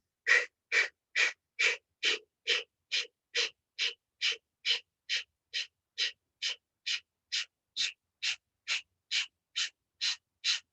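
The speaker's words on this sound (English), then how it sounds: "So in Bikram's yoga, we call this breathing exercise Kapalabhati breathing." Kapalabhati breathing exercise in a yoga session: about two dozen sharp, forceful exhales through the mouth, evenly paced roughly every half second, close and clear with no talking.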